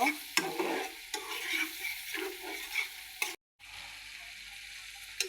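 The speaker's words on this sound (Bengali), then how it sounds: "আমি এখন মশলাগুলোকে ভালোভাবে কষিয়ে নেব" Spices sizzle and fry in a pan for a crab curry, with close scraping stir strokes and spoon clatter over steady hissing, broken by a brief silent gap near the end.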